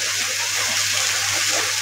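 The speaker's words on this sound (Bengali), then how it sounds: "হলুদটা ভাজা হয়ে গেছে। এই পর্যায়ে দিব পানি।" Water is poured into a hot pan of turmeric frying in oil, giving a loud, even rush and hiss that lasts the whole brief moment with no talking.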